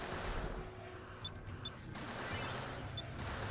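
Rapid video-game gunfire from the Final Fantasy X-2 Gunner's Gauntlet minigame, a dense fusillade of shots running throughout with a few sharp high pings, steady and loud with no talk.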